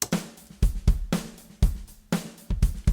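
Punchy layered drums play a steady beat: deep kicks and sharp snare hits repeating in a tight loop, close and clear with no talking.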